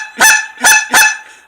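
Three loud, sharp honks blown on a handheld goose call, imitating a goose, each short and nasal with brief gaps between them, close and alone.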